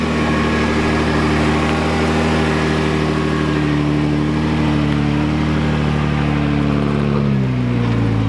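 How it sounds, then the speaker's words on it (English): A Jeep 4WD with lockers engaged climbs a steep gully, its engine droning loudly and steadily at low revs, pitch sliding downward near the end as it labors. "up the mighty Jeep goes"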